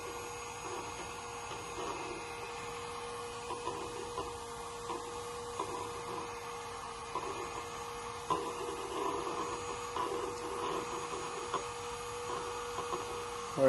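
A small homemade vacuum cleaner motor, powered by AA batteries, runs with a steady, faint high-pitched whine and hum and a few light clicks and rattles.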